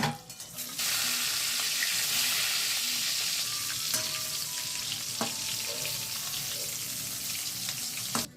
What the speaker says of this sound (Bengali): আমি বেগুন ভাজা ছেড়ে দিয়েছি